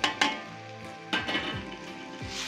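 Tomatoes dropped into browned garlic frying in oil in a karahi, giving sharp hissing bursts and sizzle with a few clanks of the pan, loud and close, no talking.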